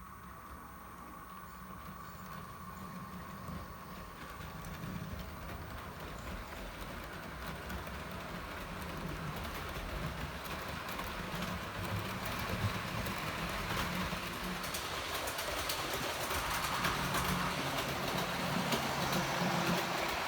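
A Bachmann GWR Castle class Tintagel Castle model locomotive running on track: a steady mechanical whir and rail rumble that grows gradually louder as it runs, with no voices.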